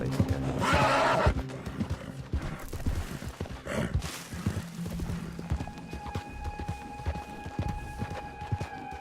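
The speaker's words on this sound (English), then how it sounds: "Get that horse hidden away, Clive" Horse in the game Red Dead Redemption 2 neighs loudly near the start, with a second whinny around four seconds, over steady clip-clop hoofbeats and game ambience.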